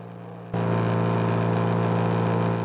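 A race car engine at the VIR endurance race drones loud and steady after a sudden onset, a constant mid-pitched roar that holds without letting up.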